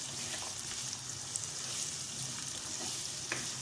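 Onions and garlic frying in a pan for a ridge gourd (turai) sabzi give a dense, steady close-up sizzle, with occasional faint stirring clicks and no voices.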